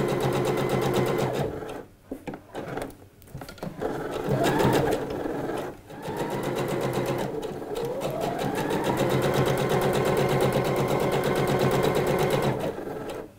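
A sewing machine stitches a dress seam near a shoulder strap, running almost continuously and loud with a couple of short pauses, its pitch rising as it speeds up on longer stitches.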